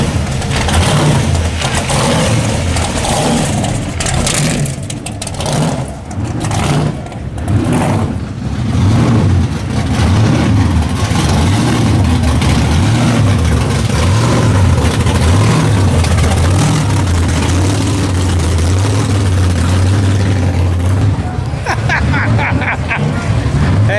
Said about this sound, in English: I have some ridiculous looking vehicle coming at me